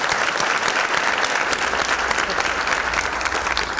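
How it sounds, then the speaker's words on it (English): Loud, sustained applause from a large audience at a scholarship breakfast, many hands clapping steadily and close, with a faint crowd murmur underneath. "please join me in giving a round of applause for the man, the legend"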